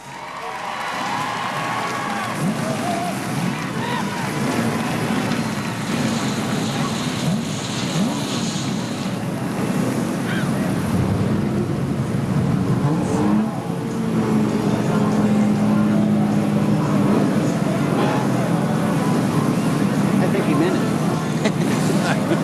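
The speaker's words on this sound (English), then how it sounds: "Gentlemen, start your engines!" Off-road race trucks fire up at the start of a CORR race in Chula Vista in 2008, engines roaring together in a continuous loud rumble over a crowd, with a steady drone rising midway.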